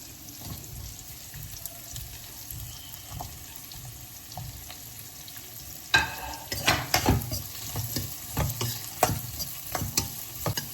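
Vegetables such as corn, bell peppers, beans and peas being stir-fried together in a pan for veg hakka noodles, with soft continuous sizzling and louder scraping, clattering stirring strokes from midway on, no voices.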